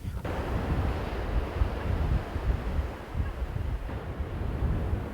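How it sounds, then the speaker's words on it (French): Waves break on the shore at Mbao, a fishing village on the edge of Dakar, Senegal: a continuous low roar of surf with wind buffeting the microphone, fairly loud and without speech. "animée par moments par l'échouage des vagues et les activités des pêcheurs"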